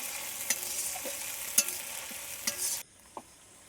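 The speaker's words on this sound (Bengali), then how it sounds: "আর এইদিকে ওর মশলা কষানো হয়ে যাচ্ছে, মানে একটু লেগে লেগে যাচ্ছে" Masala spices frying in a pan while being stirred for a home-cooked meat curry, a steady soft sizzle with scattered scraping stirs, cutting to a quieter background near the end.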